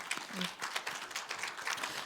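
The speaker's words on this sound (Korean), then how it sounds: "다시 한번 큰 박수 부탁드립니다" Moderate applause from a forum audience after a presentation, a fairly quiet, steady patter of clapping lasting the whole moment.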